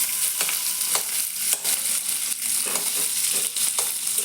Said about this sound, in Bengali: এই যে দেখুন নেড়ে নিচ্ছি। আলুগুলোকে একটু কেটে কেটে দিলে ভালো স্বাদ আসে চপে।